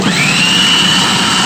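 Electric mixer creaming cold butter with eggs and cinnamon for a fruit gateau, a steady close whirring drone with a faint high whine, running alone without talk.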